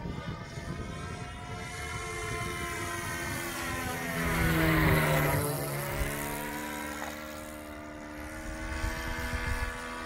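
T-34 Mentor model airplane with an ASP .52 four-stroke engine making a flyby, a buzzing whine that rises in pitch and loudness as it approaches, then drops in pitch as it passes and recedes, with no talk.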